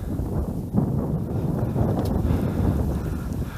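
Steady wind gusts rumble across the microphone outdoors by a pond in winter, a continuous low buffeting roar with no talking.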